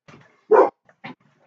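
A dog barks a few times nearby at a lawnmower, one loud sharp bark followed by a softer one, with short quiet gaps.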